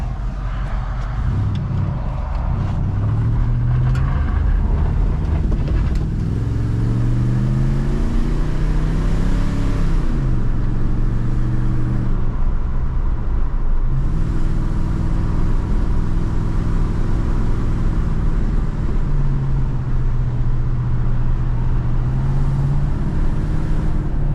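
A truck engine with a 3-inch hole in the muffler, on a free truck that came with a plow, runs loudly and close with a raspy, rumbling exhaust drone, its pitch rising and falling as it revs.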